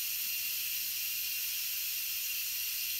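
Steam hissing from an Instant Pot's release valve while making chicken tortilla soup, a steady, bright, continuous hiss that holds evenly throughout with no speech.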